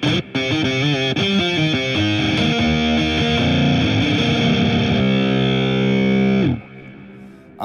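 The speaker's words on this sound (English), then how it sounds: "let me show you rock guitars because these are so fun." A heavily distorted rock guitar patch from the UNIFY synthesizer plugin plays a quick riff, then holds a buzzing sustained chord that cuts off abruptly.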